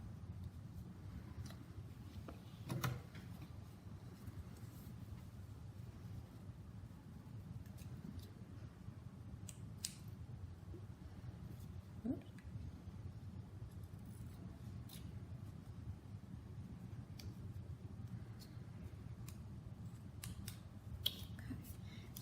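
Scissors snip quietly through yellow felt to cut out a daffodil stamen piece, giving a few faint, scattered clicks over a low, soft room hum.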